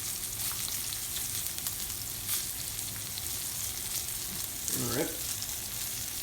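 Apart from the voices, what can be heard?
side dishes frying in a pan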